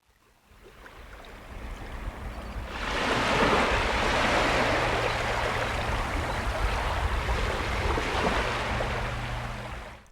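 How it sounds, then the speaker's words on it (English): Field recording of ocean waves rolling in and crashing on a sandy shore, a broad roar that builds from quiet and holds as a steady, close surge before easing slightly. "This track begins with a field recording of waves rolling and crashing against the sand."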